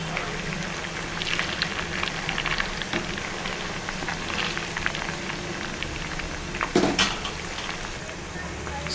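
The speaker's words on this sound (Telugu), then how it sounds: "మెల్లగానే స్లోగా ఫ్రై అవ్వాలండి." Chicken pakodi frying slowly in hot oil, a steady soft crackle and sizzle close by with a brief louder spatter near the end, while a person talks over it.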